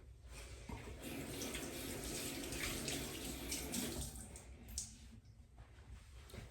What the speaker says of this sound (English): I'm just gonna rinse my hands